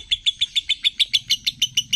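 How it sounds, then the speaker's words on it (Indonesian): A lovebird sings nonstop, up close and loud, a rapid, evenly spaced series of about a dozen sharp high chirps repeating several times a second with no pauses. "Burungnya bunyi terus dari tadi teman-teman."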